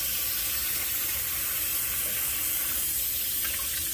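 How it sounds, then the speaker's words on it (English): Tap water runs steadily into a sink, rinsing a freshly descaled grass carp; a close, even hiss and splash continues throughout with no voices. "once you descale it, you gotta rinse it off"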